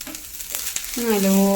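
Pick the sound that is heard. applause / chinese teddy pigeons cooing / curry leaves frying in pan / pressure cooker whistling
curry leaves frying in pan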